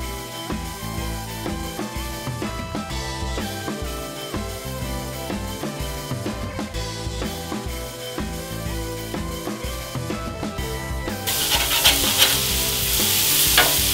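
Smashburger patties sizzle steadily on a hot cooking surface as they are flipped, a continuous close frying hiss running under background music, growing slightly louder near the end.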